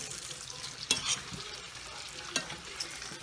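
Potato pieces frying in a pan for a homemade Southern summer supper, a steady soft sizzle with a few brief scraping stirs and taps.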